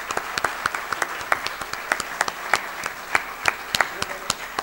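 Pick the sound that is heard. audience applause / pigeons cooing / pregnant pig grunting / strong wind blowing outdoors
audience applause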